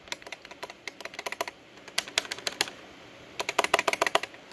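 Mechanical MX Silver key switches fitted as buttons on an arcade stick, pressed in quick irregular bursts of sharp, close clicks and clacks, with a short pause in the middle, no talking.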